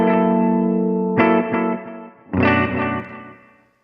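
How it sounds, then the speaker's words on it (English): Chords ring through a Ventris Dual Reverb pedal set to cascade the two reverbs in A plus B mode. Two strums bloom into long, washy, shimmering tails that fade slowly, with no talking. "switch the toggle to the A plus B position. And there we go, cascading effects."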